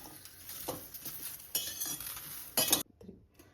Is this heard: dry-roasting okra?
yes